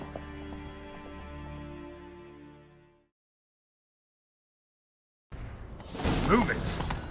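Horse hooves clip-clop at a gallop in The Witcher 3 video game, mixed with tonal music and a whoosh. The sound drops to silence partway through, then returns as a louder, noisy rush.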